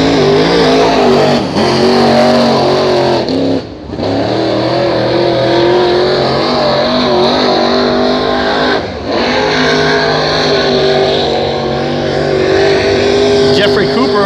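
Race car running a heat race at Hattiesburg Speedway, a loud sustained engine roar with shifting pitch and brief dips as it circles the track, with an announcer talking over it throughout.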